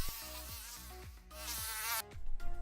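Mosquitoes buzzing as a sound effect, with a steady, close, high-pitched whine that swells and wavers over a layer of repeated tonal sounds.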